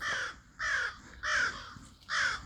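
Several crows caw in a forest, four harsh calls spaced evenly about half a second apart, fairly loud and carrying from some distance, with no talking over them.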